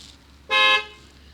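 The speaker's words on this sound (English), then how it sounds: "We can honk." A single short Tesla car horn honk, bright and loud, lasting about a third of a second against quiet background.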